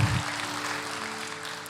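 A church congregation gives applause for Jesus, a brief, dense wash of clapping that starts strongest and then settles into a steady hiss over a low hum.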